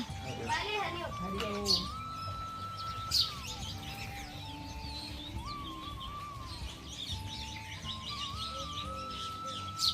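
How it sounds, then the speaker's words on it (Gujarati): Birds arriving at a garden grain feeder on a farmhouse chabutro chirp and tweet with repeated short calls and whistled notes, fairly close, while people talk quietly in the background. "પક્ષીઓએ દોણા ખાવા માટે આવવા લાગ્યો છે"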